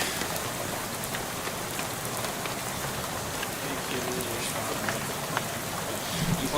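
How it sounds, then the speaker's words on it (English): Rain splattering against a bus window in the video game Shadows over Loathing, a dense, steady patter of drops with faint scattered taps and no voices. "dozing off to the sound of rain splattering on the window beside you"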